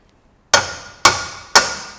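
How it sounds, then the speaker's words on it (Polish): Three sharp metallic hammer taps, evenly spaced about half a second apart, drive a new wheel bearing into its seat during a car wheel bearing replacement; each blow rings briefly and fades, heard alone and close. "dobijać je lekko młotkiem"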